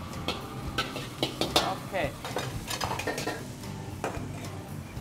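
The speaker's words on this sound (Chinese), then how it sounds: "现在我们开中火把猪肉炒香" Pork stir-fried in a wok over medium heat with garlic and dried chilies, the spatula scraping and clattering against the pan in quick irregular strokes over a steady sizzle, with a brief spoken word.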